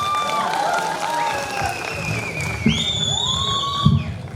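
A crowd applauds a singer at a Nepali live music programme. The clapping is mixed with sliding whistle-like tones and a few sharp thumps, and murmuring voices run beneath it.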